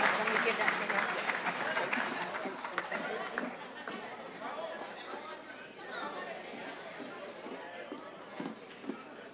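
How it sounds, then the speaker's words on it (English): Applause and crowd chatter at a student honors ceremony for fashion and costume design students, loud at first and then tapering into a murmur of voices with scattered claps. "Can we get one more round of applause for our fashion and costume design students?"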